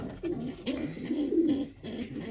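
Racing pigeon hen cooing close by, a few soft, low, throaty coos in quick succession with no talk over them.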